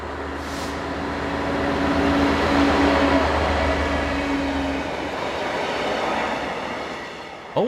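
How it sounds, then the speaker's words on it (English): A Euro Class 66 diesel locomotive arrives hauling a container train, its low engine drone and rolling wagon rumble building steadily, with a sustained tonal hum partway through and no voices. "Euro Class 66s are also a common sight here, such as number PB19, seen arriving on a container train."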